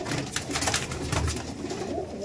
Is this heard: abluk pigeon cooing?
yes